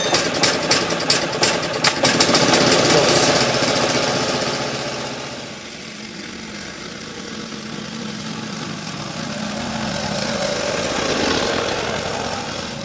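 A single-axle tractor engine chugs steadily while hauling firewood to a shed, loud and close at first with rattling knocks, then settling into a continuous droning run with a slight rise near the end.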